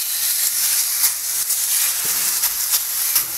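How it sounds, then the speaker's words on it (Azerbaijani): Steaks sear in a very hot ridged cast iron pan, giving a steady loud hiss and sizzle that holds even for a few seconds, with small crackling spikes scattered through it. "İndi isə bu gözəl steklərimizi atırıq çuğun tavaya."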